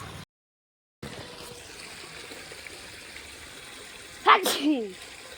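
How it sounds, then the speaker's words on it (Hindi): Water runs steadily while a vegetable garden is irrigated, a constant soft hiss and trickle that cuts out briefly near the start and has a short, louder burst of sound near the end. "तो गाइस देखो पानी चल रहा है और पानी लगा दिया है"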